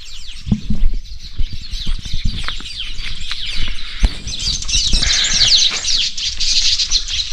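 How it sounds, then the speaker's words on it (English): Many birds chirp and twitter continuously around an off-grid cabin's kitchen garden in Africa, the calls dense and close, with occasional low thumps and rustles underneath. "I love the birds."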